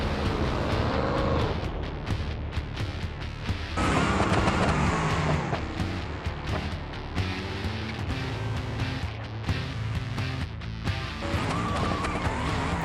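Two supercharged side-by-side sand drag cars race past, their engines roaring loudly with rising and falling revs as they go on and off the throttle down the sand track.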